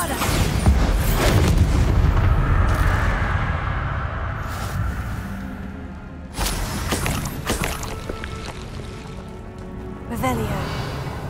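A Bombarda spell blast in Hogwarts Legacy, deep booming explosions with rumbling low-end thuds, loud and close, recurring a few times amid game effects and a voice.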